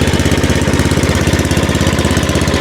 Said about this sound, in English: Turn the key on. I'll give it a little throttle.